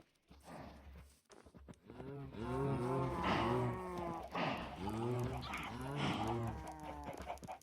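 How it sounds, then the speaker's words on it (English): Several cows mooing in the video game Minecraft, a crowded series of drawn-out, overlapping moos close by, fairly loud and continuous, with no talking. "That loud cacophony of cows."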